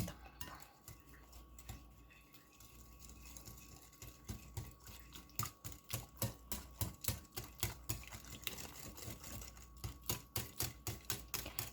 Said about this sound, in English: And 1 cup of melted butter. And we're gonna whisk them.